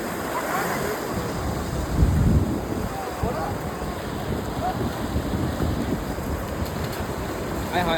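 Sea waves wash ashore at Puri beach in a steady broadband rush under gusting wind noise, with a stronger surge around two seconds and faint voices mixed in.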